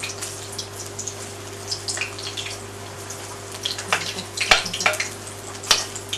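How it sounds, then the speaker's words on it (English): Vegetable spring rolls deep fry in hot oil, making a continuous bubbling hiss over a low steady hum, with a few crisp pops and louder bursts toward the end. "deep fry the spring roll until lightly brown."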